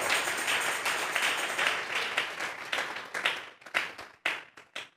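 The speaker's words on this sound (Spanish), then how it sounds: "Vamos a regalarle ofrenda de palmas al Dios de la gloria." A church congregation claps together in praise as an offering to God, with dense, sustained applause that thins out into a few scattered, louder claps near the end.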